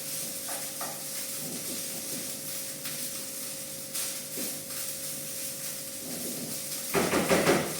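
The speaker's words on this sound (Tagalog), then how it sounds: "Ngayon, kung alam mo nang mainit ang iyong kanin, pwede mo nang haluin." Sinangag garlic fried rice with string onion and egg stirred in a hot pan, a steady close sizzle with soft scraping strokes and a louder burst of crackling frying near the end, with no talking.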